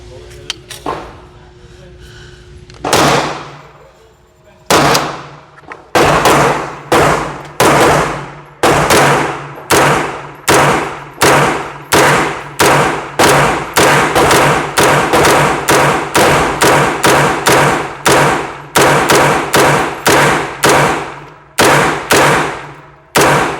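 Rapid mag dump from a firearm fed by a UTG 33-round magazine, roughly thirty sharp, loud shots in a steady fast rhythm with a brief pause near the start, close by and alone without talk.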